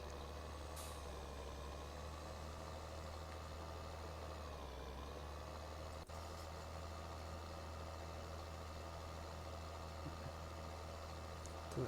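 A Massey Ferguson tractor driving in Farming Simulator 2013, a steady, continuous engine drone with a low rumble that holds throughout, close and fairly loud, with a slight dip in pitch midway.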